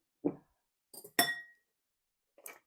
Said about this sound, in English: we're going to just go ahead and mix this together